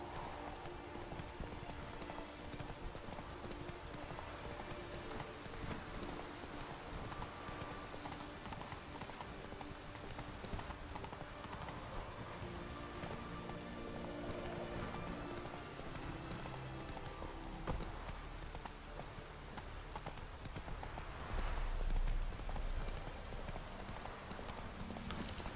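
Hooves of Roach, a horse in a video game, clip-clop steadily at a trot throughout, with a soft rain-like patter underneath and game ambience.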